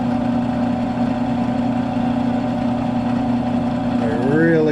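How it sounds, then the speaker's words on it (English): A power drill bores through metal on the fill auger of a Great Plains Solid Stand 1500 no-till drill, with cutting oil applied. A loud, steady motor drone holds throughout, and a rising whine appears near the end. "Not pushing, just letting the drill bit do the work."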